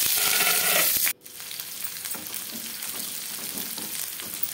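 Chopped garlic and onions fry in hot oil for a stew, giving a loud, steady sizzle. A sharp clatter near the start is followed by a brief dip before the frying hiss resumes.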